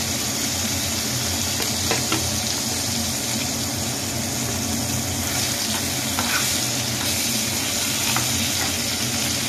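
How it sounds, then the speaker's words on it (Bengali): Pieces of soft bhola fish fry in hot oil, browning until red, with a steady loud sizzle and hiss that runs unbroken and close up, faint clinks now and then, and no voices. "এই পিসটাও একটু ভালো করে লাল লাল করে ভেজে নেব"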